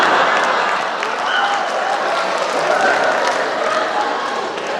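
A stand-up comedy crowd claps and murmurs in a continuous wash of applause, steady and full throughout with crowd noise mixed in.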